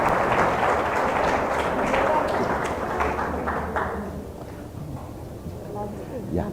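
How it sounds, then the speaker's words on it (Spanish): An audience at a governance and citizenship talk applauds an invited guest, a dense wash of clapping that starts loud and gradually thins and fades. "damos un fuerte aplauso a nuestro invitado, el doctor Álvaro Fernando López Cazorla"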